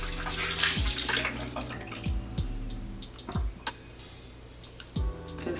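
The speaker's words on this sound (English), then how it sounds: "So now I'm gonna go ahead and rinse this off." Water splashes and drips while a honey, turmeric and cocoa face mask is rinsed off, a soft continuous wash broken by several low, hollow plops, quiet and close with no talking.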